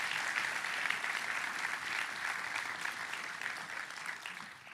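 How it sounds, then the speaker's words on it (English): Applause for honorees at a Long Beach keys-to-the-city ceremony, an even, moderately distant wash of clapping from a crowd that holds steady and fades slightly at the close. "let's start off by giving them a big round of applause"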